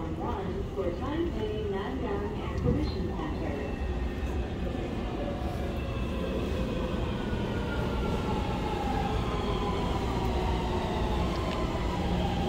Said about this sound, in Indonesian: ini MRT-nya sudah datang.